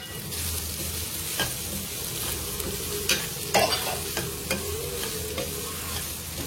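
Potatoes sizzle and fry in a pan while a spoon stirs them, with a steady close hiss and occasional scraping clinks of the utensil against the pan.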